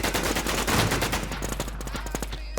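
Gunfire in the video game Warz pours out in dense, rapid bursts of loud shots, rattling continuously before thinning slightly toward the end.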